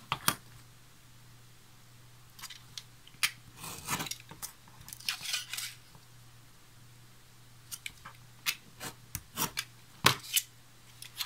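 Scissors cut through cardboard for a steampunk home-decor cartonnage project, giving quiet, crisp snips in small clusters separated by pauses, close and alone.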